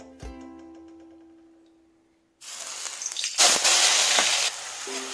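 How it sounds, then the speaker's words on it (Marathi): Onion paste dropped into hot oil for a vegetable biryani, a quiet ringing clink first, then a sudden loud sizzle that swells into a fierce crackling hiss and settles into steady frying. "आता आपण त्यामध्ये कांद्याची पेस्ट टाकून घेऊया।"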